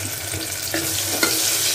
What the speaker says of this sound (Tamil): சின்ன வெங்காயம் போது நமக்கு வந்து சீக்கிரம் பொரிஞ்சிரும்